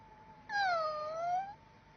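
A single drawn-out cat meow, clear and fairly close, rising then falling over about a second against a quiet background.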